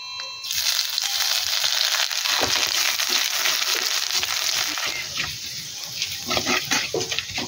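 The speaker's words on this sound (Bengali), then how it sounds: "আদাগুলো ভাজা হয়ে গেছে" Chopped ginger fries in hot oil with whole cardamom, cinnamon and cumin, giving a loud, steady sizzle close by. Scraping stirring strokes follow toward the end.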